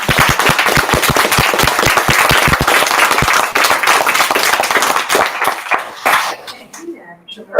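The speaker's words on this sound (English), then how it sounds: "let's give everybody a big applause" An audience at the end of someone's talk breaks into loud, dense clapping that carries on for about six seconds before thinning out and fading, with voices mixed in.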